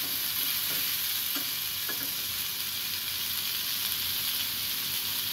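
Food frying in a pan, a continuous loud sizzle and hiss with a few light spoon taps and stirs near the start.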